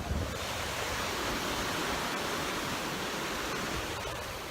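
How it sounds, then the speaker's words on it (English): Atlantic Ocean waves crash steadily against coastal rocks, a loud continuous roar of surf and spray filling the whole stretch without a break, heard close up with no talking. "The ocean is so treacherous."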